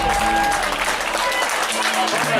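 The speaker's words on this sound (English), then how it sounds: "Give her a round of applause." A crowd applauds the overall female finisher of a race at an outdoor awards stage, with loud, dense clapping that is sustained throughout and a voice speaking over it.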